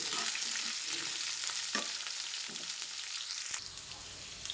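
Thinly sliced onion frying in a pan, a dense steady sizzle broken by occasional scraping and knocking strokes of a stirring spoon, close and without any talk.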